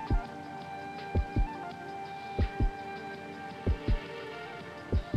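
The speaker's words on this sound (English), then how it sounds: "With the heartbeat sound" Heartbeat sound effect in the video game Stranglehold: slow, steady double thumps, five pairs at even intervals, deep and prominent over a low ambient hum.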